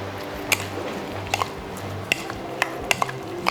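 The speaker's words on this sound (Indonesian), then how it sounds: "Aku aduk lagi sambil nunggu si minyaknya panas" Sambal dabu dabu of tomato, shallot and lime being stirred in a pan, with a scattering of sharp utensil clicks and scrapes against the pan over a low steady background hum.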